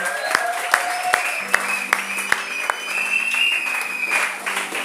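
A church congregation claps in acclamation of the word of God, a loose run of hand claps rising into steady applause over a few seconds.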